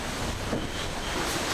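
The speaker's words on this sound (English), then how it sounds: "Big waves, just coming down a big wave, nose went in" Strong wind roars over heavy ocean waves during an offshore sailing race, a dense continuous wash of surf and wind noise buffeting the microphone, loud and steady with no talking.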